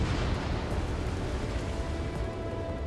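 Missile launch and explosion in the Ace Combat 7 combat flight game, a dense continuous roar of rumbling blasts and burning noise filling the whole stretch at steady high loudness, without any talk.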